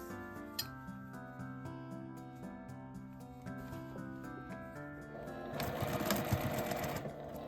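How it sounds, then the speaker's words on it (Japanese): A sewing machine stitching seams on quilted nubi fabric for a tote bag, a rapid even mechanical whirr with rhythmic needle ticking, close and steady, with a brief clink and louder handling toward the end. "返し口を開けて1センチの縫い代で両端を縫います。"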